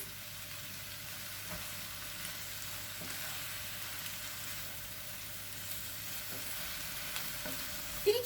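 Kebab meat seasoned with salt, red pepper flakes and black pepper sautés in a pan, producing a quiet, steady sizzle with a few faint stirring scrapes and a small clatter at the end.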